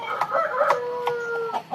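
A 6 kg rooster clucks in a rapid series of short, nasal calls, close and fairly loud, with no one talking.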